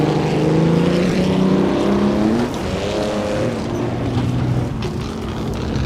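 A 1937 Auto Union Grand Prix race car with its engine behind the driver, in the Assetto Corsa racing game, roars loudly and steadily, its pitch sliding up and down through gear changes and corners.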